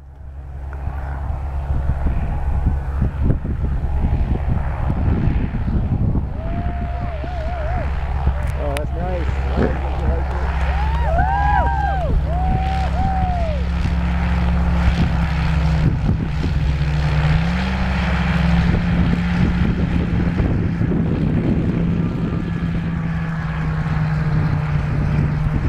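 A Silver Dart replica propeller aircraft flies over Baddeck Bay, Nova Scotia, its engine giving a steady, droning hum that rises and falls as it passes. Spectators talk and call out throughout.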